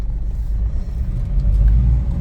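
Mahindra Bolero starting to drive off at night, a low rumbling engine and tyre roll rising slightly as the vehicle pulls away, close and steady.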